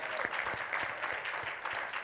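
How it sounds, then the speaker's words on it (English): At a realtors' annual membership meeting, a crowd gives a round of applause, a dense continuous clatter of many hands heard somewhat distant, with faint voices mixed in. "Round of applause."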